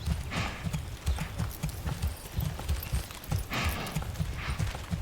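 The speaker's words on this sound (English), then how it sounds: "Christina, why are you guiding an ox?" An ox in Manor Lords walks as it is led, its hooves clopping in a steady, even rhythm that stays faint and continuous throughout, with no voices over it.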